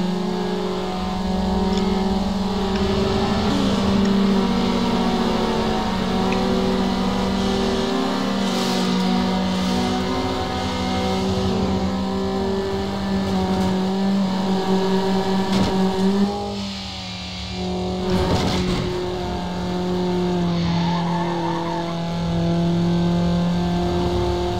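Honda Civic engine in Need for Speed Underground revving and accelerating, a loud continuous harmonic drone that climbs through gears, dips briefly at a shift near the middle, then pulls hard again, with no talking.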